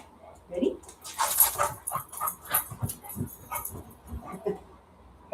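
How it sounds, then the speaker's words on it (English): An eager, food-motivated Beagle whimpers and whines for treats during a cooperative-care training session. The thin, soft whining runs under a trainer's quiet talk. "Gotta love the enthusiasm of a food motivated dog"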